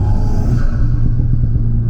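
Engine intake of an Alpine A110 Légende GT, heard from inside the car with the window open: a loud, steady low rumble and airy induction roar, continuous and close.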